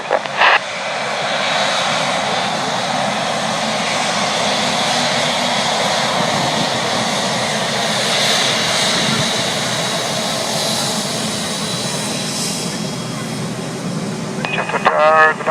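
A heavy jet roar from an Emirates Airbus A380 taking off from runway 23 right at Manchester rumbles steadily and strongly throughout, with radio air traffic control talk layered over it.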